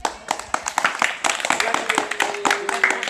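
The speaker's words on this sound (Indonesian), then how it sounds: "Tepuk tangan dulu untuk kalian" Scattered clapping from a small group of junior high Red Cross youth students in a classroom, distinct individual handclaps in an uneven rhythm, with a faint tone and some voices in the background.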